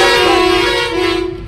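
A loud truck horn on a Belgaum to Delhi highway run, one long steady blast held for about a second and a half, close and with no voices over it.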